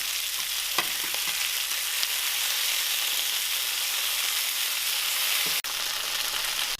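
Steak fries in oil in a pan on a stovetop at medium to medium-high heat, giving a steady, dense sizzle that holds throughout with only a brief dip. It sounds close and loud, with no voices.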